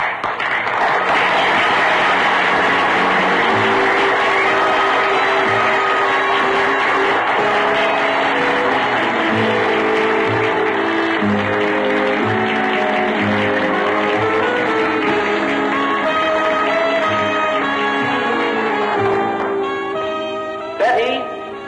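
An audience applauds beauty contest finalists with a steady wash of clapping that runs throughout, blended with orchestral music and a brief louder swell near the end.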